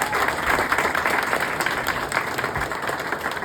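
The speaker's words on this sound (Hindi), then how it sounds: "सॉन्ग अनवील करने से पहले ताली ताली।" Applause from an event audience just before a new song is unveiled at a birthday celebration, dense steady clapping filling the space for several seconds with a faint voice beneath.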